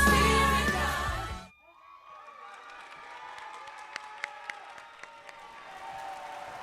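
Audience applause at a university scholarship pageant, following a loud voice at the start. A soft, steady patter of clapping with a few sharper individual claps fills the hall at moderate distance.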